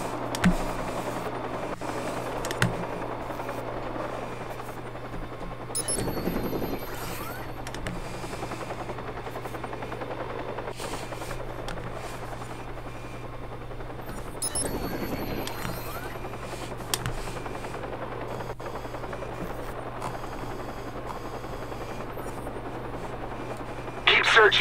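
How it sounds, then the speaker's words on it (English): Helicopter in the video game Watch Dogs, a steady low rotor drone holding throughout under game noise and occasional gunfire-like bursts, with someone talking over it. "Fucking helicopter."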